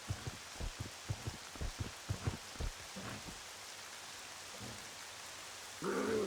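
Rain falls in the video game Twilight Princess HD at Hyrule Castle, a faint, steady patter with soft low thumps pulsing underneath.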